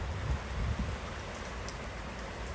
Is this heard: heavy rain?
yes